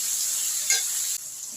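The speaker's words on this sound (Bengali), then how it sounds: "শিম আর টমেটো আমার একটু দেখুন ভাজা ভাজা হয়ে গেছে" Hyacinth beans and green tomatoes fry in a pan with a steady, close sizzling hiss that runs unbroken through the short stretch, with no voices.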